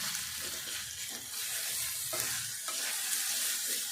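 Chopped tomatoes sizzling in hot oil in a pan of dal, stirred with a few scraping passes, a close, steady frying hiss with no voices.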